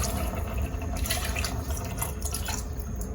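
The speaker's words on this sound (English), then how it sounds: "add the 1 cup of water." A cup of water is poured into a cooking pot for a Nigerian meal, a steady close splashing and trickling sound with a few drips.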